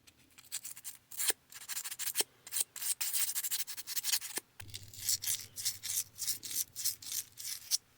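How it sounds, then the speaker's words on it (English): Quiet, close rasping strokes of sandpaper scrubbing rust from the small metal hooks of a GI Joe Adventure Team figure, coming in uneven bursts with short pauses between them. "sanding where it might bite into the metal too heavily"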